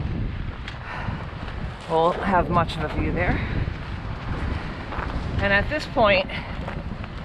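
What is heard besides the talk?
wind on mountain ridge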